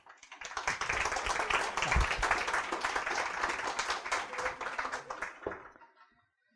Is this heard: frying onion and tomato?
no